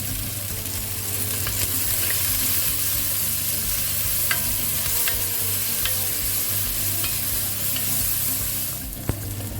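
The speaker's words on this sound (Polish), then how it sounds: "Cebulę dusimy, aż będzie miała złoty kolor. Już prawie, ale pamiętaj, że musi się mieszać." Onion stewing in a pan for pork ribs sizzles loudly and continuously, with occasional utensil scrapes and clicks as it is stirred.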